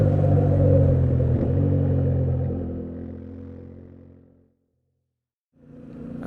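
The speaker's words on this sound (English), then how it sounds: "we're here on the Yamaha Tenere 700, one of the most popular adventure bikes going" A Yamaha Tenere 700 adventure motorcycle on the street, its low engine rumble and road noise fading steadily to silence. After a pause of about a second, the rumble returns.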